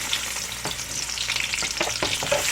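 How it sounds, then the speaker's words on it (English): Onions dropped into heated oil for a black bean stew, a continuous close crackling sizzle with scattered pops and stirring scrapes, no one talking. "So I'll go ahead and add my onions. The oil is heat up."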